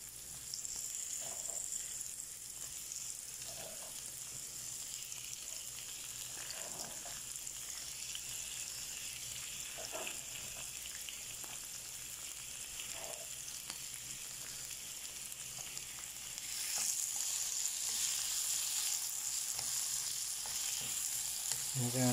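Tomatoes sauté in a frying pan for ginisang ampalaya with tuna, giving off a steady, close sizzle that stays even throughout and grows slightly louder near the end. No one speaks.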